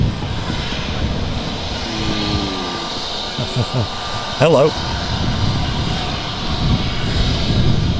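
Aircraft engines of an easyJet Airbus A320neo at Manchester Airport give a steady, fairly close hum and roar mixed with wind, with someone talking briefly over it.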